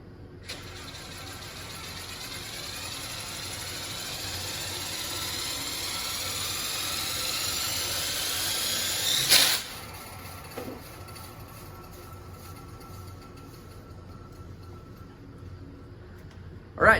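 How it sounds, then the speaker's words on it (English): An automotive alternator spun by hand gives off a whirring, whining drone that climbs in pitch for several seconds, then stops abruptly with a clunk before a quieter tail. "I'm going to go spin the alternator"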